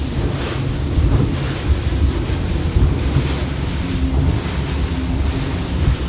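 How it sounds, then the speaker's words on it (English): A Yellowfin 36 boat runs through rough inlet water, with loud continuous wave slap and surf mixed with heavy wind buffeting across the microphone and no talking. "Coming back through the inlet, super sporty water."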